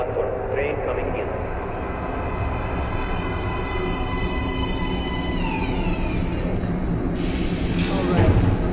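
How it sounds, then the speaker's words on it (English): A subway train rolls in to a platform in the Metro Last Light game, a loud steady rumble with rising metallic squeals and hiss as it arrives, voices speaking over it. "Please step away from the edge of the platform. Train coming in."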